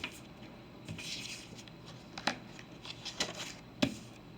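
Tarot cards are shuffled by hand, soft papery riffles and slides up close and quiet, with a few sharper taps as the deck is squared.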